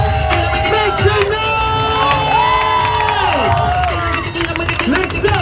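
A loud live crowd at a dance show cheers, whoops and shouts continuously, with high excited voices and scattered claps under a host's amplified voice calling out over the noise.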